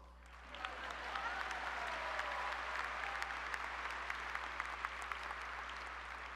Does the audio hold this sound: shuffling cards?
no